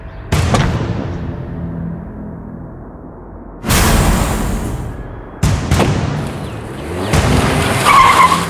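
A car speeds away on skidding tires in a crime drama chase: loud, close bursts of screeching rubber come in several separate surges over revving engine noise, with no talking.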